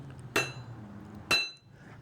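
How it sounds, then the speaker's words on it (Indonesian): A fairly large hammer strikes a knife blank forged from a hardened railway rail clamp, two sharp ringing metallic blows about a second apart with short decaying ring, close and loud. "dengan palu yang lumayan besar ya teman-teman"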